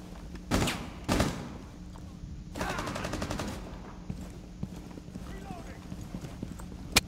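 Gunfire in Rainbow Six Siege: two sharp single shots, then a rapid burst of automatic fire and scattered quieter shots, all fairly faint, with faint voices underneath.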